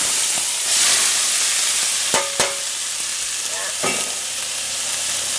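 Shallots sizzle in hot extra virgin olive oil, a loud bright hiss that swells and steadies, broken by a few sharp clinks and scrapes of a utensil in the pan.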